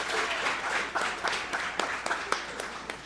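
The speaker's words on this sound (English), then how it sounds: "Clap it up for yourselves." Children applaud themselves after a flag football season, a scattered, fairly quiet patter of claps with a few sharper individual hand claps standing out.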